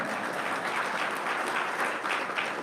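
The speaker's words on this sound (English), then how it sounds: "Yes, you can clap, it's a big deal" Dense, even applause from an audience at an annual county economic roundtable, a continuous wash of many hands clapping at steady volume, with no voice over it.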